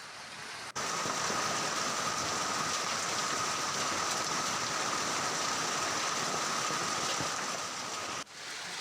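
Hail pelts down in a dense, unbroken patter on surfaces during a hailstorm in Sindhudurg, loud and steady for several seconds, then cuts off abruptly.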